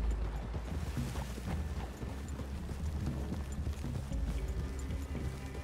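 Horse hooves in the video game Red Dead Redemption 2, a steady rhythmic clip-clop of riding over ground, moderately close under a continuous low rumble of background ambience, without talk.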